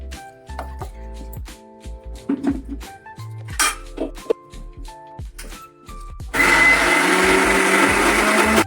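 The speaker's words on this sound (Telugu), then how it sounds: "కొంచెం కొంచెం వేసి మిక్సీ జార్ అనేది పట్టుకోవాలి" A mixer grinder jar grinds moong dal for pesarattu, starting after a stretch of clinks and handling sounds, then a loud steady motor whir that continues close up to the end.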